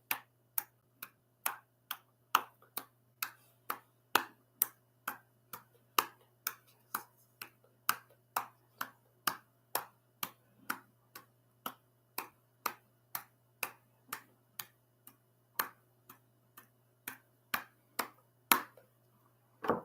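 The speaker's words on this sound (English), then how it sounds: "you clap 40 times in front of you" One person clapping their hands in a steady, even rhythm during an arm exercise, about forty sharp separate claps, close and alone with no talking.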